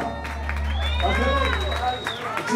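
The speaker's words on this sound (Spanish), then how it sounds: "Un aplauso para ustedes" Crowd applause and cheering at a live concert in Cali rise together, loud and sustained, with excited voices and whistles mixed into the clapping.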